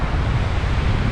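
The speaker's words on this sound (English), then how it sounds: "The wind's picking up" Strong wind blows at sea during shore fishing for cod in the UK, a loud, steady, dense roar buffeting the microphone with no pauses or voices.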